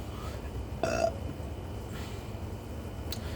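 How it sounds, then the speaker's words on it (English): A single short, close burp rises briefly over a quiet room hum, followed by faint small noises. "That was a nice burp, though."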